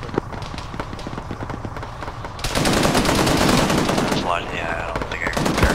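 Machine gun fire in a military video game, a dense sustained burst of rapid shots that swells to full loudness partway through, with radio-style squad talk faint in the background.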